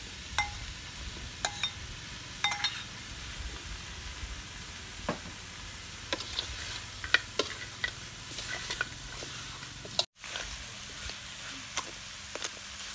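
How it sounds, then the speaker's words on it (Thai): Tomatoes and red lotus stems stir-fried in a pan, with a steady sizzle under repeated scraping and clinking strokes of a utensil, close and fairly quiet. "เราจะคั่วมันแบบนี้ก่อนเนี่ยเพื่อให้มันหอมนะยาย"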